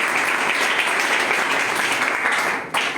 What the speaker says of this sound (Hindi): इनका स्वागत ताली बजा सकते हैं